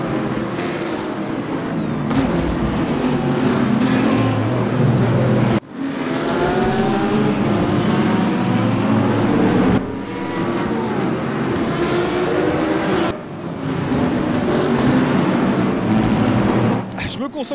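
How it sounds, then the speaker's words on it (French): An Audi R8 LMS GT3 Evo race car engine in the game Raceroom, heard from the in-car view, revs loudly and continuously, its pitch climbing and dropping sharply with each gear shift, close up. "je vous ai laissé aussi du coup profiter un peu du son de la voiture en inboard"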